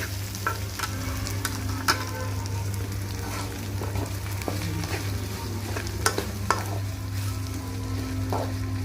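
Chicken sizzles steadily as it fries in a pan, with occasional scrapes and clinks as a utensil stirs it.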